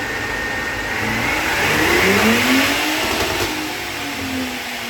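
A 2022 Ford Raptor with a 5 Star E50 tune revs on a dyno during a seventh-gear pull, its engine note rising steadily in pitch and loudness, peaking near the middle, then easing slightly as the steady roar continues alone.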